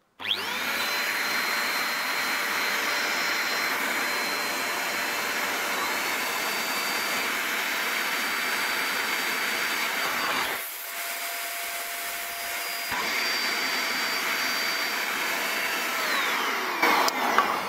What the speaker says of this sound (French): ce souffleur. Ils disent 250 et 550 watts sur les deux positions, mais en fait, bon, ça va faire beaucoup de bruit